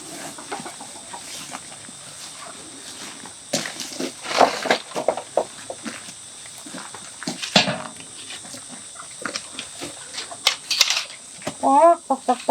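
Free-ranging hens cluck and squawk in a backyard forage yard, with scattered calls and short bursts coming in irregular clusters, some near and some farther off, over a quiet outdoor background.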